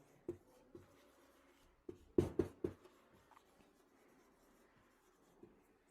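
Chalk or marker strokes on a classroom board, a few scattered taps and short scrapes with a quick cluster of strokes in the middle, close and clear with no talking.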